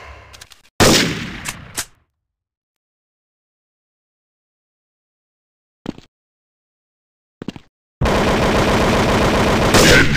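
Gunfire in the Critical Strike Force mobile shooter: a loud burst of rapid shots, two brief faint pops after a long silence, then sustained automatic fire to the end.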